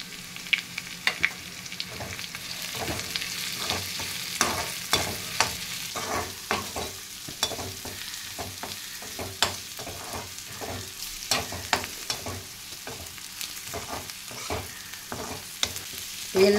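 Bitter gourd sautéing in hot oil with onion and garlic, a steady sizzle broken by repeated sharp scraping stirs at an irregular rhythm, close up with no talking.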